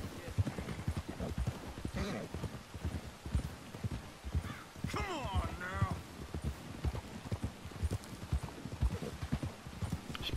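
Horses galloping in Red Dead Redemption 2 in bad weather near a coach: steady rhythmic hoofbeats throughout with a brief whinny midway and some voice underneath.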